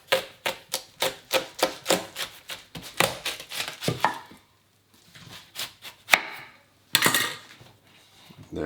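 A knife cuts through a watermelon on a cutting board with a fast series of crisp, evenly spaced knocks, then a pause and a few scattered, louder strokes, close and quiet overall.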